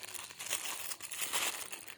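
A perforated plastic bag for wrapping rose apples is handled up close, giving continuous crisp crinkling and rustling with brief louder crumples throughout.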